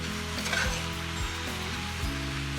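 Cabbage cooking down with sausage and bacon in a pan, sizzling and crackling steadily, with faint stirring or scraping sounds and a low hum underneath.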